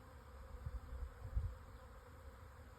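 A swarm of bees circles after rain, a dense, steady buzzing hum close by with soft low rumbles of wind or handling passing through, no voices.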